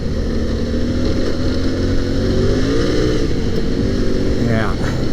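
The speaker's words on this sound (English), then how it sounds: "you can, you know, light up the back tire a little bit, help turn the bike a little faster." A Yamaha Tenere 700 adventure motorcycle pulling on loose gravel, its engine droning loud and close with rising pitch under a steady roar, wind and road noise mixed in.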